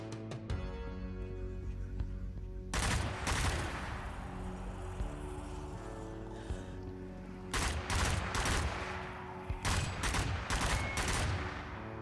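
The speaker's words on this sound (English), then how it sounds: "I'm going to use the machine gun more." Machine gun in the Zombie Army VR video game firing in several short, loud bursts of rapid shots separated by pauses, over a sustained droning game background.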